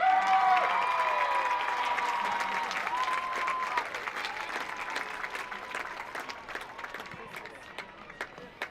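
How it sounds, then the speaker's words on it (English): Loud applause from a crowd at a homecoming football game ceremony as an honoree is introduced. Dense, sustained clapping mixed with some cheering fills the clip and slowly fades over about nine seconds. "Please put your hands together for Caitlin Dykes"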